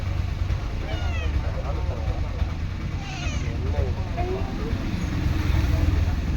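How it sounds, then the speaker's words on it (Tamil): A big cat meows several times in rising and falling calls over a steady rumble of traffic-like background noise, with people talking nearby. "பெரிய பூனை"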